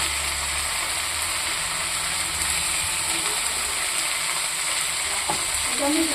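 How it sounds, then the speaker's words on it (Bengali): Fish curry with spices frying in a pan, a steady close sizzle with occasional stirring scrapes, continuous throughout. "দেখুন বন্ধুরা, মশলার সাথে ভাজা হয়ে গেছে।"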